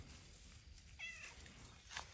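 A farm cat near calves and yearling cattle gives two soft, brief meows, faint against quiet background noise.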